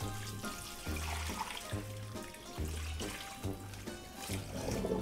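Small May Queen potatoes washed under a running tap, with steady flowing water and a rhythmic, repeating low thumping pattern throughout, no talking.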